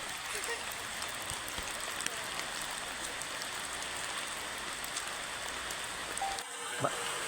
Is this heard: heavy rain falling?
yes